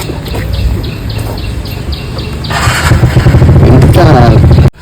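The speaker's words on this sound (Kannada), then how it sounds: "ಬೈಕ್ನ ಒಳಗಡೆ ಹಾಕೋಣ." A motorcycle engine runs and revs near hills on the way up to Adichunchanagiri, rising louder toward the end before cutting off abruptly, with birds chirping in the background.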